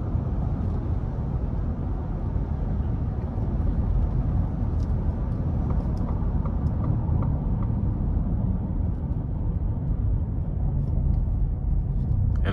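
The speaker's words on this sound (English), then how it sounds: "the wind noise is just a little prevalent" Steady wind and road roar inside a 2022 Ford F-150 Lariat with the 5.0 V8 cruising on an interstate, a constant loud broadband rumble with no talk.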